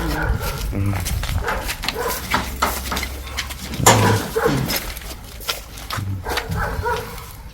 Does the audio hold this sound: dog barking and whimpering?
yes